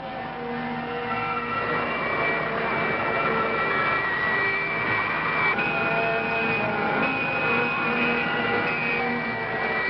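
A spacecraft engine roars under heavy thrust in a 1964 science-fiction film, a dense, sustained rumble laced with steady whining tones that holds loud and even throughout.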